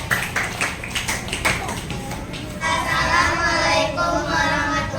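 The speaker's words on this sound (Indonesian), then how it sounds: "Kasih tepuk tangan untuk kelompok mandiri." A classroom audience claps for a student group, starting with a scattered patter of hands that swells into louder, denser applause mixed with cheering voices in the second half.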